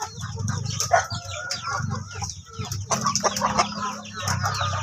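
Chickens in a poultry breeding pen cluck steadily at close range, with overlapping hen calls, rustling and scattered bird noise throughout.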